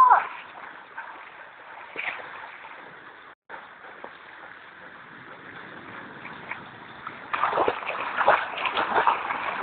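Floodwater in a street in Timisoara splashes and sloshes steadily as waves wash along, swelling louder toward the end, with people talking and shouting over the water.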